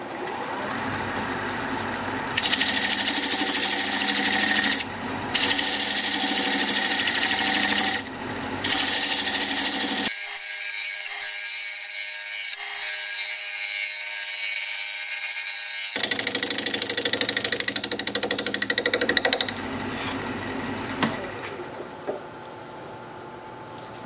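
A wood lathe turning tool cuts spinning mesquite in loud bursts of harsh scraping, broken by short gaps and one longer quiet stretch where only the motor hums before cutting resumes.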